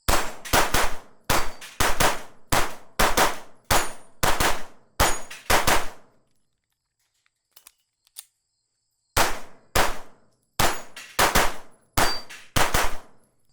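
A Staccato CS compact pistol fires at steel targets. Sharp, loud reports come in fast strings of about eight, each with a ringing clang, then a few seconds of near silence and faint clicks, then another rapid string.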